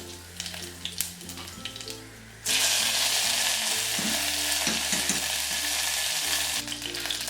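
Three dried red chillies and two sprigs of curry leaves hit hot oil already popping with mustard seeds. Light crackling gives way to a sudden loud, sustained sizzle, close up, with brief stirring noises.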